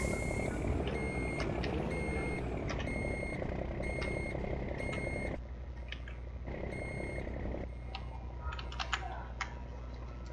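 Truck reversing alarm in World Truck Driving Simulator, a steady string of evenly spaced beeps over a continuous low engine drone, with keyboard-like clicks scattered through.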